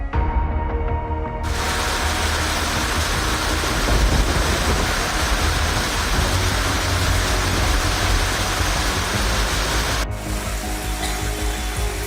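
Heavy rain pours steadily amid deep rolling thunder during a Himalayan hill-state storm, a dense, loud, continuous roar with no voices, broken by a sharp crack near the end.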